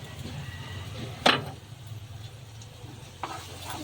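Sour yogurt stirred into fried spice paste for a Bengali prawn malai curry: a steady low sizzle with one sharp scrape of the spoon early on and a softer knock near the end, no talking.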